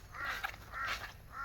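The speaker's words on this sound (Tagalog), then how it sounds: "Daming uwak." Crows cawing near a garden, a few harsh, raspy calls in quick succession over faint background noise.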